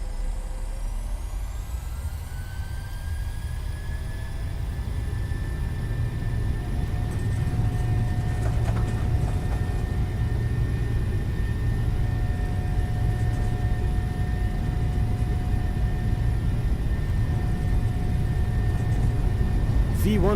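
Simulated jet engines of a PMDG 737-700 spool up to takeoff thrust in Microsoft Flight Simulator, a loud constant roar with a rising whine that holds steady, with a brief voice partway through.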